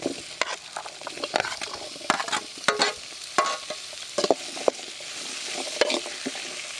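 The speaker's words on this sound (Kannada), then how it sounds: "ಈಗ ಬೆಳ್ಳುಳ್ಳಿ, ಕಾಯಿ ತುರಿ, ಹಾಗೆ ಪುದೀನ, ಕೊತ್ತಂಬರಿ ಸೊಪ್ಪನ್ನ ಹಾಕ್ಕೊಂಡು ಹುರ್ಕೊಳ್ತಾ ಇದ್ದೀನಿ" Garlic, grated coconut, mint and coriander fry in oil with onion, tomato and ginger for a village-style mutton curry, steady sizzle broken by irregular scraping stirs of a spatula against the pan.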